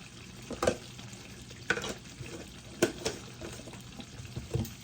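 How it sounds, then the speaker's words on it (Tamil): Crab masala curry simmers in a pan, giving a faint, low bubbling with a few sharp clinks and stirring knocks spread through it, quiet and close with no voices. "நண்டு மசாலா கறி கூட்டியாச்சு நல்லா கொதித்து அவியட்டும்"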